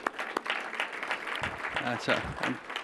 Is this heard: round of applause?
yes